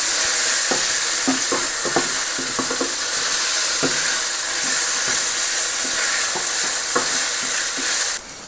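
Garlic paste fries in an Instant Pot while a spoon stirs it, giving a loud, close hiss and sizzle with scattered scraping knocks against the pot, ending in a brief clatter before the sound drops away.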